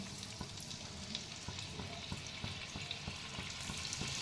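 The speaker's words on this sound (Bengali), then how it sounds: "আমি এবারে তেলের মধ্যে ছেড়ে দিচ্ছি" Breadcrumb-coated cheese paneer pakoras fry in oil over medium heat, a faint, steady crackling sizzle dotted with small pops, with no voices.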